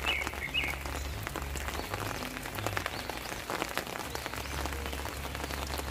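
Soft, steady rain falls on a garden in England with potted geraniums, a dense patter of drops heard alone at low level and with no talk.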